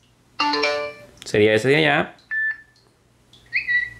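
A W57 smartwatch plays through its selectable notification tones: a sustained harmonic chime followed by short rising and falling electronic melodies and bright beeps, loud and close, with brief talk over the quieter end.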